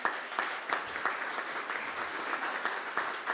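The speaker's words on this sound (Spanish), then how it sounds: "Le damos un fuerte aplauso." Steady audience applause at a panel discussion welcoming a teacher, dense clapping from many hands throughout, moderately loud and close.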